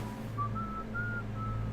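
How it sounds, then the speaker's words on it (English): A game character whistles a short, wavering tune of four sustained notes in a Sherlock Holmes video game, heard clearly over a low steady hum with no talk. "Is he seriously whistling?"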